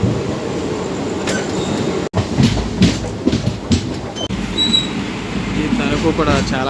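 Machilipatnam Express pulling into Tanuku railway station: loud, close rumble and rhythmic wheel clatter, with brief high metallic squeals near the end.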